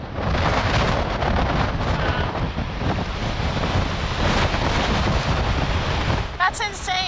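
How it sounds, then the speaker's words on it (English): Strong wind buffets the microphone on the upper deck of a ferry crossing the Gulf of Finland, with rushing waves below, a loud continuous roar throughout and a brief voice near the end. "The ferry cuts through the wind and waves as we lean into the gusts on the upper deck."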